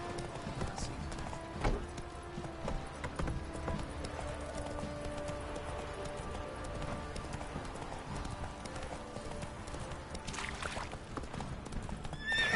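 Hooves of Roach, the horse in The Witcher video game, clip-clop in a steady galloping rhythm over continuous game music and ambience, with a whinny breaking through and faint talk in the background.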